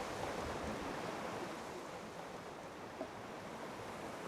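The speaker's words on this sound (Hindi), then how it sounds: "ये खामोशी, ये सुकून, ये लहरों की आवाजें।" Sea waves wash steadily onto the shore in a continuous broadband roar, moderately loud and unbroken, with a faint wind-like hiss and no voices.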